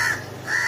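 A young crow, recently hatched and now nearly grown, gives two harsh, nasal caws close by, each drawn out and separated by a brief gap.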